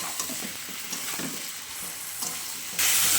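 Tomato, ridge gourd and eggplant frying in a pan with onion, black cumin and green chilli, a steady close sizzle with a few stirring scrapes, rising to a louder hiss near the end, with no talking.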